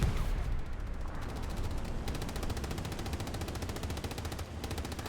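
Rapid gunfire in a World War II shooter game on Utah Beach, bullets sprayed into the side of a Panzer 4 tank, a dense continuous rattle of automatic fire mixed with other battle noise, loud and steady throughout.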